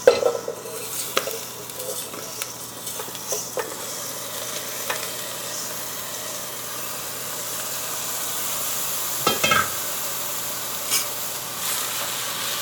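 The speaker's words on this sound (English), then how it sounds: "So stir the rice around, get it nice and coated with all the flavors, the oil." Rice being stirred in hot oil in a pot for oven-baked rice, with a steady low sizzle and scattered spoon scrapes and clicks against the pot, close and alone without talk.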